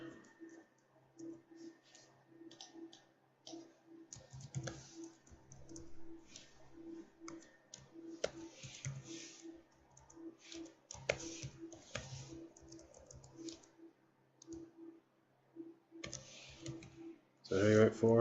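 Keys on a computer keyboard click in short bursts of quick taps with pauses between them. The typing is fairly quiet and close, and a person talks at times over a low steady hum.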